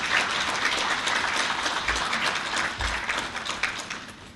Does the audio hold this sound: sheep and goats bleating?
no